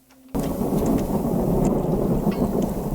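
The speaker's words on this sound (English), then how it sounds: "It's a nice stormy day." Thunderstorm in the city-building video game Songs of Syx: after a short quiet start, heavy rain roars in with rumbling thunder, loud and continuous, with no voices.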